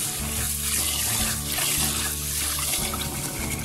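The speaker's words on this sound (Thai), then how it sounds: "เราจะล้างข้าวสัก2รอบนะคะ" Riceberry rice washed by hand in water makes continuous sloshing and trickling, steady and close, with no talking.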